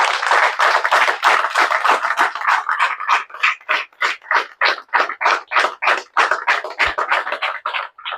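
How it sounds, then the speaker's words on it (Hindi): An audience at a motivational speech claps loudly together, a dense burst of applause that thins into a steady rhythmic beat of clapping. "तो इनके लिए एडवांस में भी ताली आप लोग बजा सकते हैं।"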